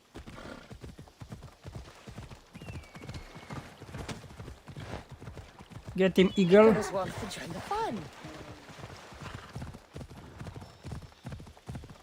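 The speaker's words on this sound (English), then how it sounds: "Might as well summon our horse because it's quite far." A summoned horse in a Greek-setting action video game gallops with rapid, rhythmic hoofbeats throughout, and a loud whinny breaks in midway, while someone talks over the hooves.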